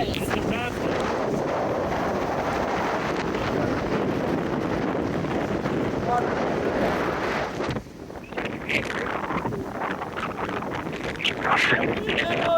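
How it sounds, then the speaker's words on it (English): Strong wind roars steadily across a microphone on a beach at Port Aransas, Texas, as a cold front pushes southwest wind in; a loud, continuous buffeting rumble with a brief dip, while people talk underneath. "I don't know if you guys can hear us over the wind"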